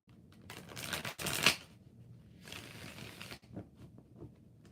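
Tarot cards are shuffled up close in two quick, soft bursts of riffling separated by a short pause, fairly faint.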